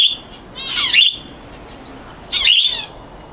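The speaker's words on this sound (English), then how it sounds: "Canaries are certainly enjoying this egg food here." Pet canaries feeding on egg food give two short, bright chirping bursts, close by and fairly loud, separated by a brief quiet gap.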